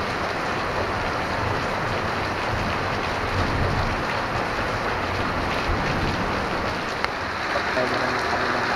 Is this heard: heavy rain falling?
yes